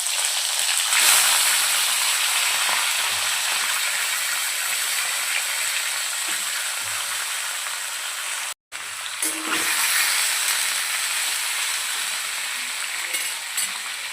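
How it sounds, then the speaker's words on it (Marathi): Surmai fish fries in hot oil in a kadai for a Malvani-style fish curry, giving a loud, continuous hissing sizzle that drops out briefly for a moment partway through. "तेल छान गरम झालं की त्यामध्ये आपण फिश ॲड करूया"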